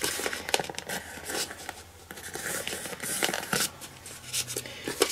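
Paper is handled and folded by hand while making a die-cut card with tape, giving soft crinkles, creases and rustles in short irregular bursts at close range, fairly quiet, with no talk.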